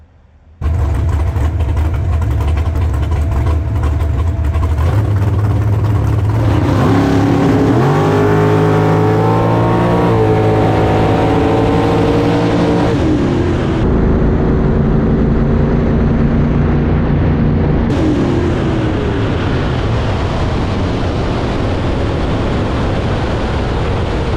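Drag car launching at Farmington Dragway during a points race: a loud, sustained engine roar climbs through the gears as it pulls hard down the strip, with no talking over it.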